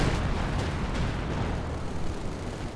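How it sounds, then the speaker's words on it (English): Howitzer artillery explosions in the video game Company of Heroes 2 form a dense, continuous rumble of blasts, loud and heavy throughout with no pause between them. "Those howitzers coming in."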